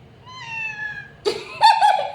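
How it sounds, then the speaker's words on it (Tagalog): A cat meows twice close up, a thin drawn-out cry followed by a louder, more insistent two-part meow. "Meow. Si Ming. Meow"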